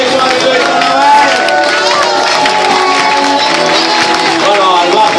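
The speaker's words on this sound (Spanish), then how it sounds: "Daos un aplauso, que sois el mejor público de Villanueva." A loud crowd cheers and shouts for a bagpipe band at a night festival in Villanueva. The dense roar of voices runs steadily throughout, with clapping likely mixed in.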